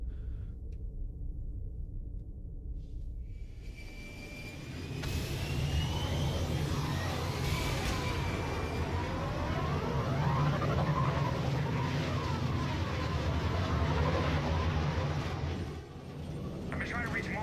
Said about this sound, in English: I like that sound effect of the engines.